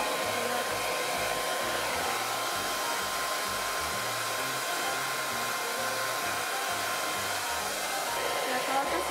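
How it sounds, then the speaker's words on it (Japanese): A hair dryer blows a steady, close whoosh of air throughout, drying hair indoors, with a faint, low voice murmuring now and then underneath. "髪の毛乾かします。"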